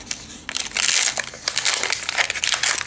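Crinkly foil wrapping of a Pokémon trading card packet crackles and tears open up close, a quick run of sharp, papery rustles.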